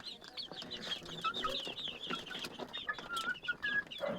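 Local chickens cluck and chatter on a small farm in Dibrugarh, several birds close by making overlapping clucks and short squawks in an uneven, continuous flurry.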